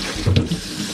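Water bursts briefly from a kitchen tap to wet a cloth, a short close splash and gush of under a second with no speech.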